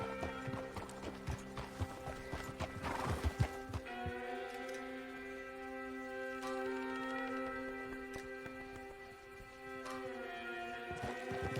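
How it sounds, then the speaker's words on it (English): A horse is ridden in the video game Red Dead Redemption 2, hooves clip-clopping in a quick irregular gallop that settles into a steadier gait, over a sustained musical score with no talk. "Andando cavalo"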